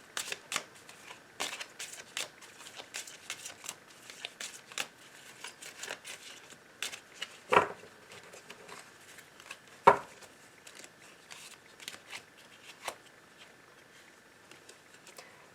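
Oracle cards are shuffled for a love reading: a close, steady patter of cards riffling and sliding, with a couple of sharper snaps partway through.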